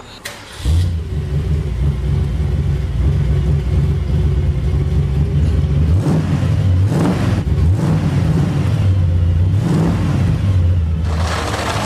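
A souped-up Ford Mustang muscle car engine rumbles loudly and close, with a deep steady idle broken by several sharp revs that rise and fall, and no speech over it.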